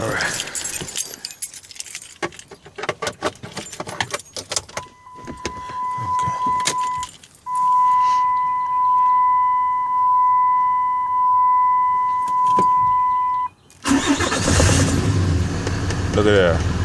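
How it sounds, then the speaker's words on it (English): A Cummins diesel engine cranks and starts after an EGR/DPF delete, preceded by jangling keys and clicks, then a steady droning run with a whine, a brief cut, and a loud rough roar at the end. "Now let's crank her up and see what she do."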